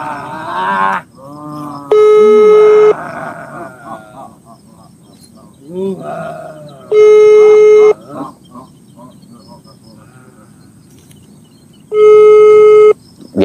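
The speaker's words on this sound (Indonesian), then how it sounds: "Berdering sih." Ringback tone of an outgoing phone call: three loud, steady electronic buzzes about five seconds apart, with someone talking in the gaps between them.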